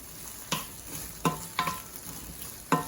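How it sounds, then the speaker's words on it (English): Peppers simmering in a pan for pad thai give a low sizzle, broken by a few sharp clinks or stirs of a utensil against the pan. "Add our peppers, let it simmer a little bit."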